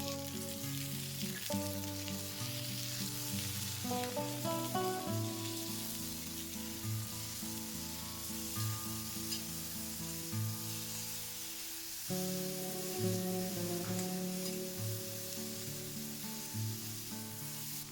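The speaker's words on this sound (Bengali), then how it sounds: "তেল গরম হয়ে উঠেছে এবার কেটে রাখা বেগুনগুলো দিয়ে দেব" Cut eggplant pieces sizzle in hot oil as a steady, soft frying hiss under louder instrumental background music that plays throughout.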